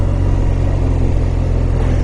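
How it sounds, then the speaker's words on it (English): A BMW R1200RS boxer motorcycle engine running underway in snowy weather, a loud steady low throb with dense rumbling and wind roar, continuous for a couple of seconds without speech. "God, I love the feeling of a boxer motor."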